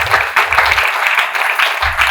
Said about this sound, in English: So a round of applause to Harris Air.